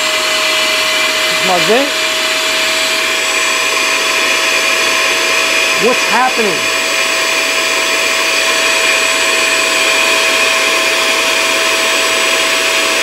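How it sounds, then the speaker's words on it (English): A vacuum pump runs steadily throughout to degas a distilling wash, a loud constant hum with a steady tonal whine, while a person speaks briefly and a couple of short squeaky sweeps rise over it. "I turn on the vacuum."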